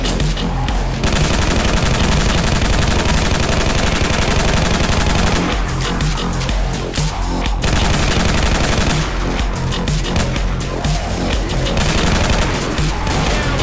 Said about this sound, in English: Wow, bullets.